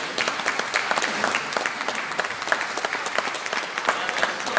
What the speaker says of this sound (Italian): vi chiedo di accogliere con un grande applauso i ragazzi dell'orchestra giovanile Prometeo di Castelfranco Veneto